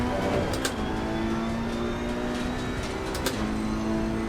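A race car engine holds a steady high drone in Assetto Corsa Competizione, with a brief gear-change blip partway through over a constant close engine tone.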